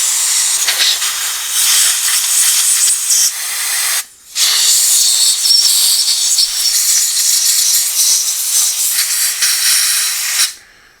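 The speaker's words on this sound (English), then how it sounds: "the compressed air is going to blow it all out of there" A compressed-air blowgun with a needle valve hisses loudly into the ports of a Nikki carburetor on a Briggs and Stratton Generac generator, two long sustained blasts split by a brief pause.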